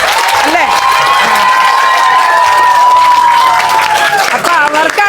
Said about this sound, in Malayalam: അപ്പൊ അവർക്കാണ് പ്രത്യേക കയ്യടി കൊടുക്കുന്നത്